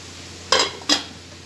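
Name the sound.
mixing sweet rice in a pot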